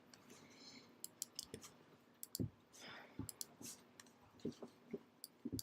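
Scattered computer mouse clicks while working in Illustrator, sharp faint ticks in irregular groups, some doubled, over a quiet room with light background rustle.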